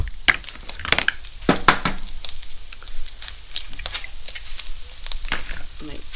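Sausage and onions frying in a pan at a camp breakfast cook, a steady soft sizzle running throughout with scattered sharp clicks and crackles, close by and alone.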